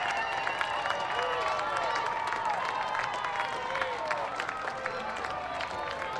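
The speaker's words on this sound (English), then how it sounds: "let everyone clap for the football players" Crowd clapping for high school football players at a homecoming parade: scattered, ongoing applause and some cheering from an outdoor crowd, mixed with background chatter and whistle-like tones.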